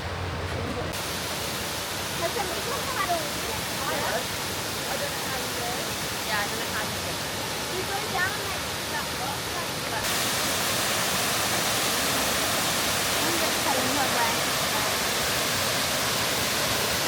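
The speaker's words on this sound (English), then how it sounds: "So we'll check out this waterfall and see what it's like." Steady roar of a waterfall in Bali or Lombok, a dense continuous rush that grows louder and brighter partway through, with faint voices under it.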